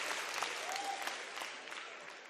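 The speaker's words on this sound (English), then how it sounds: "Here's an applause for y'all." Applause sound effect played during a livestream, a continuous wash of clapping from a crowd with no breaks, moderately loud.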